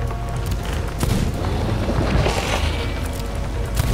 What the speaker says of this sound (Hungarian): Lövöm a Kraken.